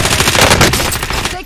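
Rapid automatic gunfire from a Call of Duty Warzone Rebirth match, a loud continuous burst of machine-gun shots lasting the whole moment with no pause.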